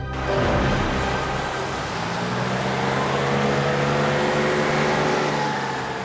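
A car engine hums and drones steadily while driving, a close, continuous mid-range rumble that slowly shifts in pitch, with no voices.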